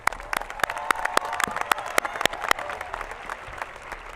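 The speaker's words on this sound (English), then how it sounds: "Parents and families, let's give them a round of applause." Audience applause at a high school commencement ceremony for the class of 2016, a dense steady patter of many hands with a few sharper near claps standing out, filling the whole stretch without talk.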